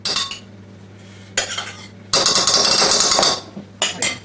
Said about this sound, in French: Alors je mélange, et je remélange.